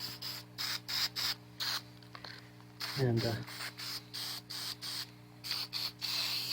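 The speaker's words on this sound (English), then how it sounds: "and spray that down real good." WD-40 sprays in repeated short hissing bursts onto a universal joint on a 1972 Chevy Custom 10 pickup truck. The bursts come close and steady, with someone speaking briefly in the middle.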